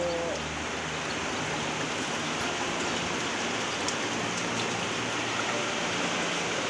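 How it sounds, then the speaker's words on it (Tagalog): Steady rain hisses evenly throughout, a dense wash of falling water with no pauses. "Biglang umulan. Bigla ang ulan."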